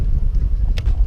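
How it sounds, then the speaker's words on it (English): Gusty wind buffets the microphone on a lake during a kayak fishing trip, a low continuous rumble with brief rustling bursts, close and fairly loud. "Really starting to hate this wind."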